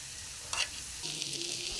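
Wild mushrooms fry in oil in a home kitchen with a soft, low sizzle, broken by a quick scraping stir and a light clatter of the utensil partway through.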